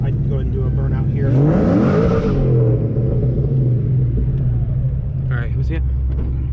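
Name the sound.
900HP 2004 Mustang Cobra doing a burnout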